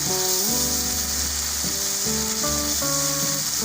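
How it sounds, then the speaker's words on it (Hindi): Onion masala sizzles steadily in a pan for fish curry, a continuous loud frying hiss with background music playing throughout. "इसको मैं अच्छे तरीके से भून रही हूँ"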